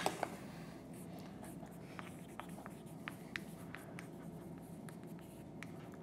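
A pen writes by hand on paper, faint scratchy strokes in short bursts over a quiet room background.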